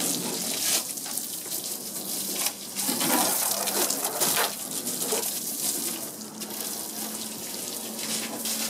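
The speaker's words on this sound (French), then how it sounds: "toujours mouiller la carrosserie pour enlever la poussière" Water sprays onto a car's bodywork to rinse off dust before shampooing, a loud steady hiss with surging bursts as the jet moves across the panels, and no voices.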